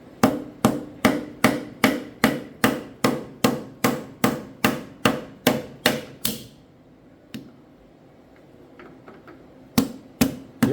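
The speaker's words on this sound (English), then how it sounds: "we're just going to tap it down. The reason I have to tap it down is to push it through the ring compressor." A small, light hammer taps a piston down through a ring compressor during a John Deere 4020 engine rebuild, giving about fifteen sharp, evenly spaced metallic knocks, then a pause and two more taps.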